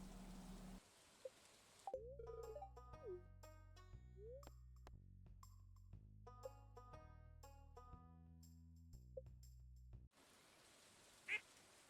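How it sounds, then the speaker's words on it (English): Ducks quacking in the farming video game Stardew Valley, a few short cartoonish quacks over upbeat game music with plinking notes, framed by brief bursts of noise at the start and end. "I then headed down to Maru's to purchase 2 ducks."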